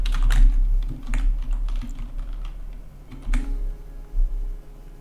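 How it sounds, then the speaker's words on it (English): Bursts of keyboard typing as random text is entered, close and clear clicks in uneven clusters with short pauses, no voices. "you'll just type some random text"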